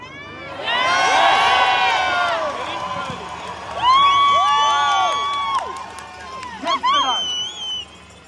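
Crowd at a rally cheering and shouting, loud whoops and raised voices rising in bursts near the listener, some high children's shouts among them.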